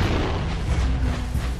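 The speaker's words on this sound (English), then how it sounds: "there's those bombs again." Bombs exploding in the video game Jak and Daxter make a continuous loud, low booming rumble with overlapping blasts, and no voice is heard.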